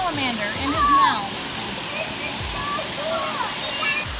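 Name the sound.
waterfall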